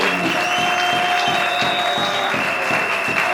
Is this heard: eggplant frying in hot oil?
no